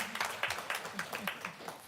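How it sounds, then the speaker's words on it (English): An audience applauds during a board meeting, the clapping coming in uneven bursts while a voice talks over it. "Let's give them a big round of applause."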